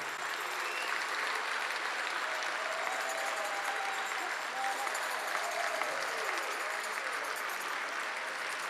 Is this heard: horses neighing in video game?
no